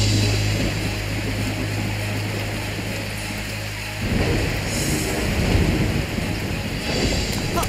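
An animated thunderstorm with heavy rain and wind: a dense, loud wash of rainfall and gusts, with a low rumble that breaks off and then returns in a surge, continuous throughout.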